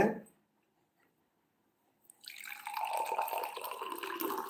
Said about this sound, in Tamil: நல்லா தண்ணி கொதிக்க வச்சு அந்த தண்ணியை இதில் ஊற்றிக்காங்க